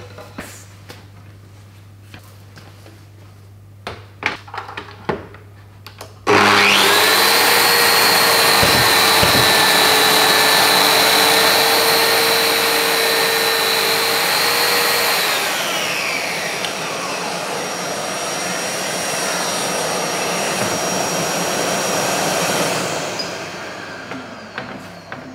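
A Mafell MF 26 cc GF-Max drywall milling cutter grooves plasterboard, starting abruptly after a few quiet knocks with a loud steady motor whine and cutting roar that dips in pitch and then runs down near the end.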